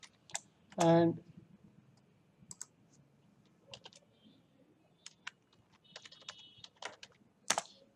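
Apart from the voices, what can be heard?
typing a password on a computer keyboard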